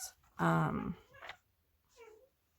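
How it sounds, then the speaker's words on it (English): A pet cat gives a loud, drawn-out meow up close indoors, followed by a shorter faint cry, with brief quiet gaps between and no talk. "You can probably hear my cat."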